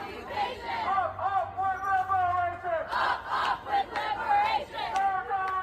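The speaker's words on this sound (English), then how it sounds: "a bunch of the students are cheering as they raise the flag" Harvard students cheering and shouting as a flag is raised over a campus statue, a scattered outdoor crowd with rising whoops and chatter in bursts, moderately distant.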